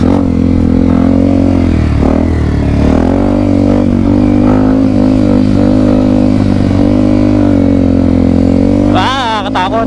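A Yamaha WR155R motorcycle revs and accelerates steadily on an off-road sand race track, its loud, close engine drone rising in pitch near the end, with a voice speaking over it.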